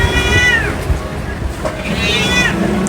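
A cat at an animal shelter in Karachi meows twice, drawn-out and wavering, over a low background rumble with some faint voices.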